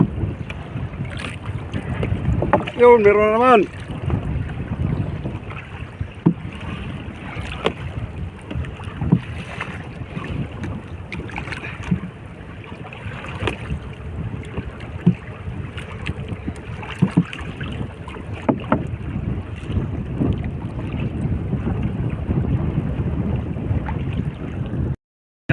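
Wind buffets a microphone on a small fishing boat in gusty weather before rain, a constant low rumble with brief water sounds and a short spoken remark near the start.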